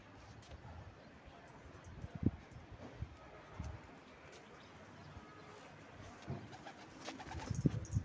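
Pigeons coo at a distance while the flock circles overhead, with occasional soft thumps of wings or feet standing out over a quiet outdoor hush.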